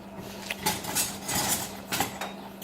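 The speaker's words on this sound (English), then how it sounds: "get a stir frying spoon to make sure my pasta's not sticking" Metal spoon clinks and scrapes against a pot while stirring boiling pasta shells, a few irregular clattering strokes close by with no talking.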